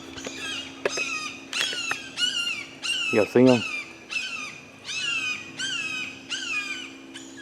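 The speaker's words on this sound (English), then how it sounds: "It's a hawk, y'all hear them? They had babies and they're learning to fly." Young hawks that are learning to fly give repeated shrill squawking calls, about a dozen in a steady series, close and clear outdoors on a farm, while someone speaks briefly between them.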